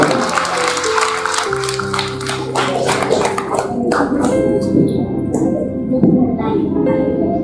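A church Christmas celebration crowd claps loudly and densely, mixed with music and voices. The clapping is strongest early on and thins into a busier mix of sound.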